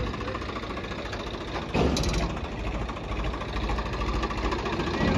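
A Swaraj 855 tractor engine runs loudly and steadily at close range, with a harsh, rattling, knocking drone and a brief surge partway through.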